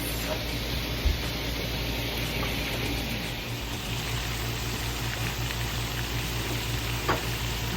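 Venison deer back strap fries in hot grease with a steady, dense sizzle and crackle throughout, close and fairly loud, with occasional small pops and a faint voice in the background.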